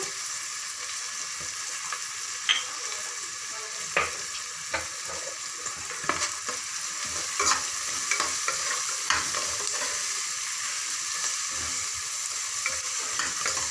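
Onions and peas frying in a pan for ghee rice while being stirred, a constant close sizzle with intermittent scraping clicks of the spoon, growing slightly louder toward the end, with no voices.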